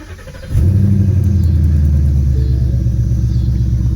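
A 2015-2017 Ford Mustang GT V8 cranks briefly and then fires, settling into a loud, deep, steady idle rumble recorded close up.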